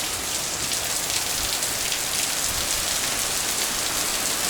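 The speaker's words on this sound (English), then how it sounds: "if we're getting 6 inches an hour for 3-4 hours, it's a lot of rain" Heavy rain pours down in a steady, dense roar, drumming hard on surfaces without a break, during a storm dropping about six inches an hour.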